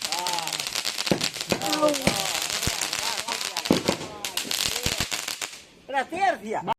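A 25-shot Diwali firework cake fires rapid sharp bangs and crackles close by in a dense run, then stops while people talk nearby.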